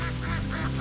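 A duck quacks in quick succession outdoors on a rainy day, several short nasal calls close by and fairly clear, with no talking.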